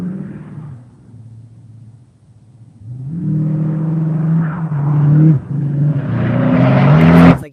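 A synthetic car engine effect idles with a low rough rumble, fades down, then rises into a loud revving whine that climbs and surges toward the end.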